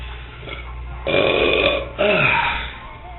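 Two loud, rough belches in close succession from a nearby person, each a low, croaky burst lasting under a second, with no other talking.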